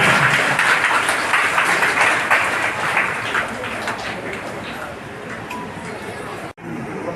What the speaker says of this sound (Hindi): तालियां होनी चाहिए, जोरदार तालियां बजानी चाहिए,